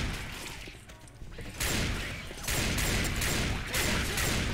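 Bursts of gunfire from Left 4 Dead 2 come in sharp, dense volleys, loud and close, with a few short pauses between sustained rattling stretches.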